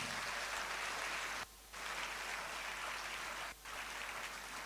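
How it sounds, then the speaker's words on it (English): Faint, steady applause from an audience at a ceremony inducting newly qualified physician assistants, a continuous patter of clapping that drops out briefly twice before resuming. "please don't let the applause die"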